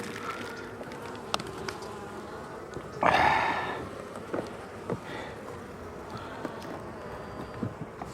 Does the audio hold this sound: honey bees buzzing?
yes